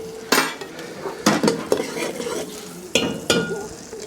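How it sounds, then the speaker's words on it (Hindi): Spices, green chillies and coriander hit hot oil in several loud, close sizzling bursts for dal tempering over a wood-fired stove, with metal utensils clinking and stirring between them. "ये आपके तड़का लग रहा है।"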